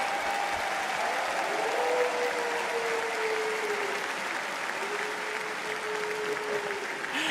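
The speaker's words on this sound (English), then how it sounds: "let's have a round of applause for all of the teams that have shown up here to the International 14" Arena crowd at The International 14 Dota tournament applauding the teams, a dense, steady wash of clapping and cheering held at an even level throughout, with faint tonal hum beneath.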